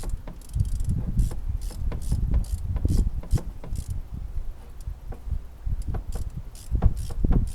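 Steady ratcheting clicks from a ratchet on a 6-inch extension loosening a throttle body bolt under the radiator hose of a Sprinter van 3.0, close and clear, repeated in rhythmic bursts with brief pauses.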